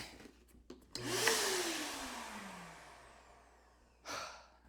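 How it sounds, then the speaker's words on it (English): A vacuum cleaner picks up sawdust indoors at a bedroom workbench. Its motor whirs up loudly, then slowly winds down in pitch, and a brief second burst follows near the end. Nobody speaks. "I need a vacuum."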